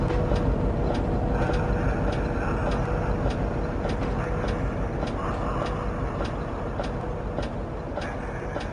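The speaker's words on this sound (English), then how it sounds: "the goods train came, being pulled by 7071" A goods train rumbles steadily at close range as it arrives, pulled by steam locomotive 7071, with a regular ticking clatter of wheels over rail joints throughout.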